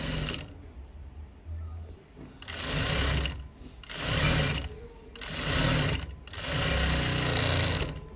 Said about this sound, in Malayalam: ഇനി ഇതിൻ്റെ മീതെ ഒന്ന് പതിച്ച് തയ്ക്കുക.